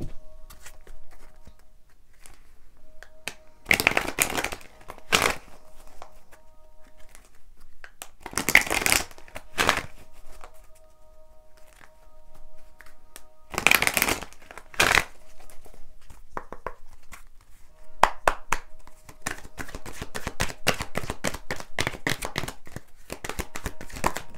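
Tarot cards are shuffled close by in several separate bursts of quick riffling and slapping, with quiet pauses between, then a longer, denser stretch of rapid shuffling at the end.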